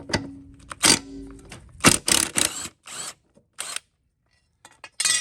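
A 9/16 socket wrench loosens the blade bolt on a Craftsman lawn mower, giving sharp metallic clicks and ratcheting bursts in separate clusters with short silent gaps between them.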